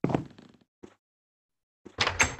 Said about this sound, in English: there's a jungle door.